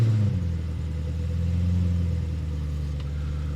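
A cheap BMW M5 replica with a recent check-engine fault turns over and fires up, its engine settling into a steady, loud, close idle with a low rumble.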